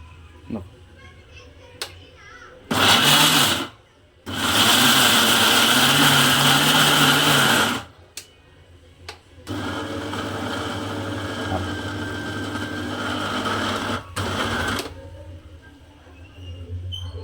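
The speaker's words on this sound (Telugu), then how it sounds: "వీటినన్నిటినీ మిక్సీ కొట్టుకోవాలి" A kitchen mixer grinder whirs through spices and boiled potato in two loud bursts of a few seconds each, followed by a longer, lower grinding run. Short pauses and faint handling noises fall between the bursts.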